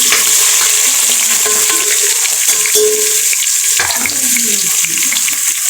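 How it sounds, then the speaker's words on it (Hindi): Onions frying in oil in a pan for Indian chicken curry, a steady close hissing sizzle with occasional stirring scrapes and clinks. "अभी मैं इसमें प्याज डालूँगी"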